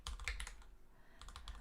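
Keys tapped on a computer keyboard while writing code for a simple game, quiet close clicks in two short bursts separated by a brief pause, with no talking.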